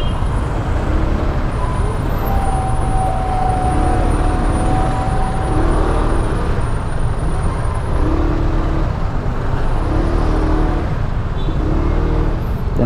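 Road traffic at about half past six in the morning, heard from a motorcycle, makes a loud, continuous low rumble of engines. A few faint passing tones ride on top of it.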